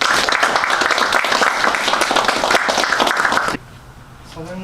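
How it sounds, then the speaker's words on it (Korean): Dense applause fills an award ceremony honoring Yangsan's people of the year, loud and steady for about three and a half seconds before cutting off abruptly, followed by a faint voice. "우리 양산TV와 우리 수상자들에게 박수 한번 다시 부탁드립니다."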